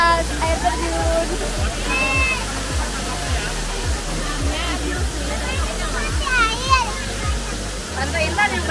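Water pours steadily down the Curug Leuwi Asih waterfall in a continuous broad rush, and people talk over it close by throughout.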